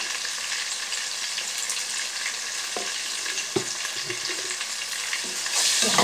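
Rohu fish fries in hot oil with salt and spices, a loud continuous sizzle with occasional knocks and scrapes from stirring, close up and without talk.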